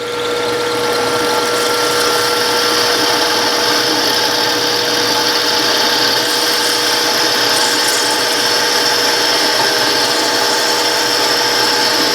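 A drill bores steadily with Drill Hog bits in a garage shop, a loud continuous whine and grinding rasp with a sustained tonal hum, running without pause.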